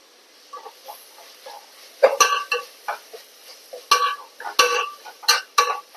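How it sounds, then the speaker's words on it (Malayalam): A ginger and garlic paste is being stirred in a pan while cooking chicken curry, heard as intermittent close scraping and clinking strokes that grow louder partway through, with no talking. "നന്നായി ഇളക്കി കൊടുക്കുക"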